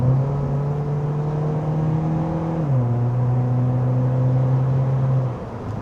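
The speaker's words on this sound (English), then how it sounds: "See how it accelerates out of the corner." 2019 Ford Fiesta ST-Line accelerating out of a corner, a close, steady engine hum holding pitch and then dropping after a shift as it pulls on, with no talk.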